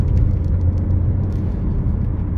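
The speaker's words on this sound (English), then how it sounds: "Plenty of power from the turbo engine. This is quite a steep hill," A Vauxhall Mokka 1.4 turbo petrol SUV with automatic gearbox climbs a steep hill, giving a steady, loud low engine drone and road rumble from inside the cabin, with faint ticking above and no talk.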